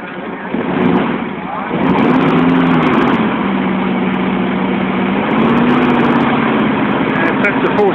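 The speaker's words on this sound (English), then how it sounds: "that's a 465 cubic inch, and she's obviously a pretty decent sized engine" A 465 cubic inch engine at a vintage machinery rally runs in a steady low loud rumble with a slight pitch shift, while someone talks over it.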